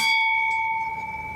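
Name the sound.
bell being rung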